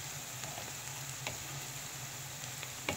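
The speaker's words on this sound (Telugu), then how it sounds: "ఫ్రై చేస్తున్నా చూడండి" Ingredients for biryani fry in a pan with a soft, steady sizzle, fairly faint and close, broken now and then by light stirring clicks, with nobody speaking.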